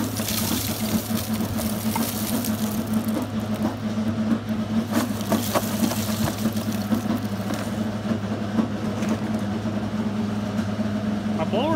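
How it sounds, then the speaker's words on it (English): Dust-extraction blowers on a gasifier run with a loud steady droning whir and low hum filling the whole stretch, a rough, strained mechanical tone, with a voice talking over it. "My blowers don't sound too happy right now."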